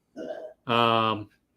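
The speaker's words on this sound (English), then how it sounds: "she just burped" A dog lets out a short low grunt followed by a longer, loud, tonal belch, both close and alone against silence.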